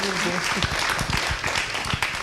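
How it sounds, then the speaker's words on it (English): An audience at an evening book event claps in dense, steady applause for the two authors, a continuous crowd sound with overlapping hand claps and some voices mixed in. "Can we have a round of applause for Lindsay"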